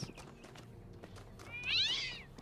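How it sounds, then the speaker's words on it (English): A startled cat in the video game Talos Principle 2 lets out one short, rising meow near the end, clear above a low ambient game background. "Yeah, I scared the cat, sorry."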